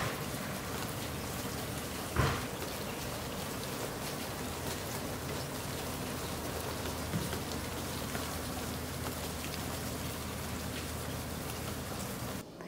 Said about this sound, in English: It is a very cold and rainy morning.